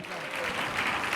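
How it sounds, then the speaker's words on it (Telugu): A church congregation at a Sunday service claps loudly and steadily, a dense wash of hands filling the room for a brief moment. "చప్పట్లు కొట్టు గట్టిగా"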